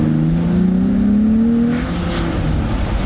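A 2022 Nissan Z accelerates hard at full throttle, its engine note rising steadily in pitch and loud from inside, then easing off with a whooshing turbo sound near the end.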